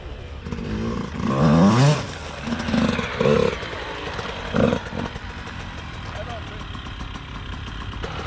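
A Yamaha YZ85 dirt bike revs through the gears with a couple of sharp throttle bursts and a wheelie, its two-stroke engine buzzing at mid distance while people talk nearby.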